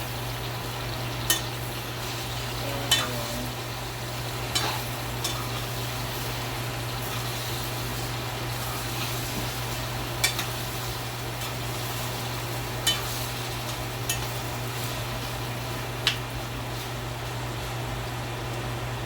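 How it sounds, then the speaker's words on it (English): Jamaican curry chicken simmering in a pot, with a steady low bubbling hum and a few sharp clinks of a spoon scraping and stirring at irregular intervals. "Stir them around."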